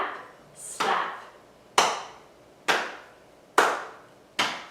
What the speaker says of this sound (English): Clap, slap,